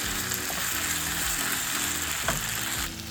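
Onions fry and wilt in a pan with a continuous dense sizzle. A few scraping stir sounds cut in before the hiss eases slightly at the end.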